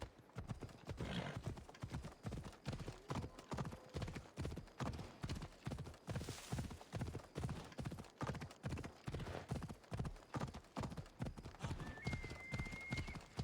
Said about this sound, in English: Oh, that's a good video game horse right there.